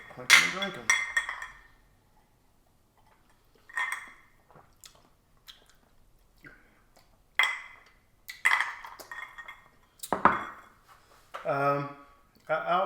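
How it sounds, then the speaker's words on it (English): Glasses clink together during a gin tasting, with a few sharp bright chimes scattered between bursts of nearby conversation. "Clinking and drinking."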